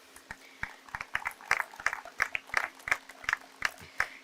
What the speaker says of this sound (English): A big round of applause for each of us.